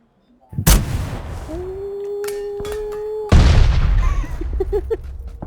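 Gunfire in the battle royale video game PUBG: a sharp loud shot, a sustained tonal whine, then a second heavy burst of shots with scattered pops and debris, all close and loud with no talking.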